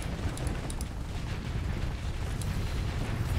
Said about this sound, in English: That is an explosion.